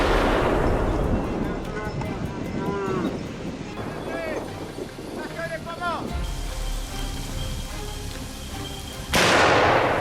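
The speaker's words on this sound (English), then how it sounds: "A precise, clean shot dropped one of them right where it stood." A hunter's rifle shot rings out in a wheat field beside a harvester while hunting wild boar, a sharp loud report among farm machinery rumble, birdlike calls and outdoor noise, with a second heavy burst near the end.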